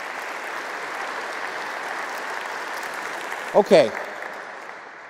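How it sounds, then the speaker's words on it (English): An audience at a debate applauds with a steady wash of clapping that continues under a brief spoken word near the end before fading out. "I think they all deserve a round of applause for doing such a great job"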